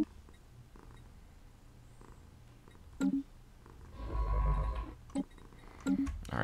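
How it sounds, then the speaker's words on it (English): A cat purrs in a close, low rumbling stretch, with a few short clicks and tones scattered around it and no talk. "You're such a good kitty."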